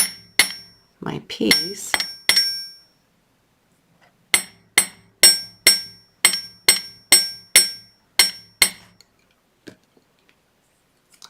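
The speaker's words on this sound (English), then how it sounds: "so that I can hammer it to my liking" Hammer tapping wire flat for beaded aqua chalcedony wire-wrapped earrings, a run of about ten sharp, evenly spaced metallic taps close by, after some brief handling clatter and a few spoken words.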